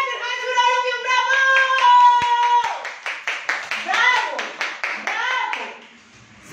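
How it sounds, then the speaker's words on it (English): Children in a primary one English class clap their hands in a quick, even rhythm while young voices chant along, with the clapping loud and close. "Clap your hands for all of you, bravo!"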